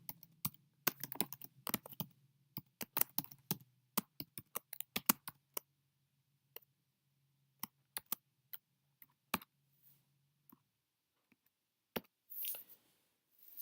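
Fingers type on a computer keyboard while code is written, quick irregular bursts of close, crisp key clicks with short pauses, thinning out to scattered single taps near the end.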